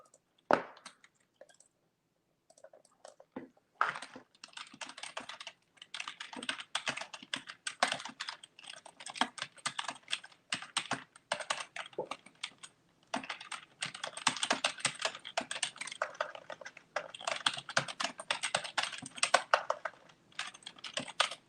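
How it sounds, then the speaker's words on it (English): Rapid keyboard typing, close and steady, with bursts of clicking keys and a short pause near the start; no voices. "what is that clicking noise? That's me typing"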